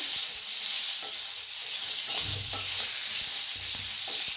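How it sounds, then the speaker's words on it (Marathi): Five deseeded green chilies roasting in a pan, with a steady bright hiss of sizzling and occasional low thumps and scrapes from stirring, close and fairly loud, without talking. "पाच मिरच्या घेतल्या त्या भाजून घेऊया"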